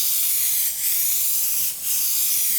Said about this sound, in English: So we're going to start by spraying a large gradient, which means I'm going to keep the airbrush moving.